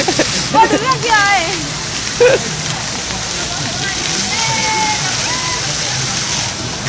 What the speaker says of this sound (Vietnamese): vòi nước nó chạy tè tè tè đấy